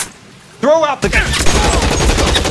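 Gunfire in the video game L.A. Noire breaks out as a loud, dense burst of rapid shots following a brief voice, the volley continuing without pause to the end.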